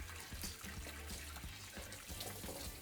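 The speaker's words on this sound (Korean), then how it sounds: "흐르는 물에 한번 찬물에 씻어주면 끝나거든요" Cockles rinsed under cold running tap water for a Korean cockle bibimbap, a close, steady splashing stream with small clattering shell knocks throughout, no voices.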